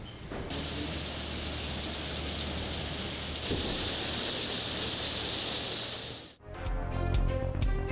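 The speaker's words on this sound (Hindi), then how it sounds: "लाहौर समेत वसी पंजाब के मुख्तलिफ शहरों में मूसलाधार बारिश।" Torrential rain pours over Lahore and Punjab as a dense, steady roar with thunder rumbling beneath it, cutting off abruptly near the end before a brief burst of music.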